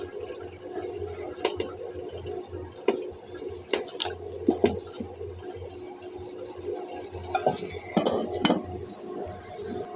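A spoon stirs lentils and bottle gourd in a cooking pot, making scattered scraping clinks and knocks against the metal over a soft simmering background, close by and moderately loud.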